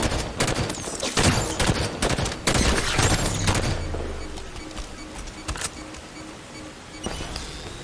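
Rapid bursts of turret gunfire in the shooter game Halo 5: Guardians, loud clustered volleys early that thin into scattered sharper shots with a lingering rumble.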